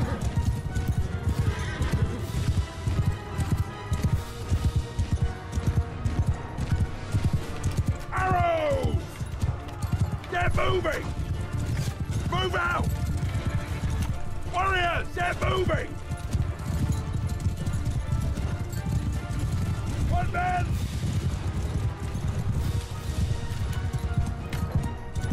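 Rhythmic hoofbeats of a galloping horse with several loud whinnies in Mount & Blade II: Bannerlord, over a continuous bed of game sound and someone talking throughout.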